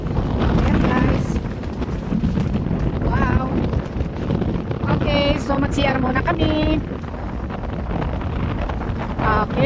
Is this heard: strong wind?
yes